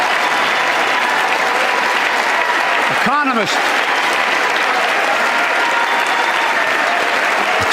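A large crowd applauds continuously and loudly, a dense steady roar of clapping with a brief spoken word over it partway through.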